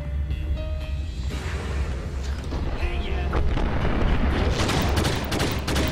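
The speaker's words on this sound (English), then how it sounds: "What the fuck exploded there?" A Max Payne game scene builds from scattered shots and mechanical clatter into a loud, sustained blast with rumbling debris that swells through the second half.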